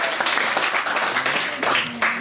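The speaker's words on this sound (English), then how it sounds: "we just have a quick round of applause for them as well" Wedding guests give the ushers a quick round of applause during a father-of-the-bride speech, a lively crowd of clapping hands with a few voices mixed in, steady and close.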